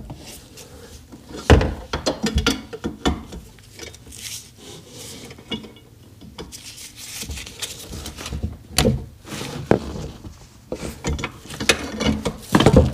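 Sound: removing the drive shaft from a Seadoo RXDI

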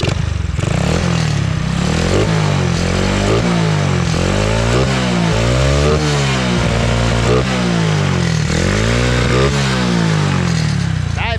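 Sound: Honda Wave 100 motorcycle engine revving with N-Pro carburetor

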